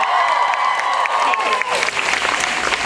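An audience at a college convocation cheers and applauds, a brief dense burst of clapping with a sustained tone ringing through it.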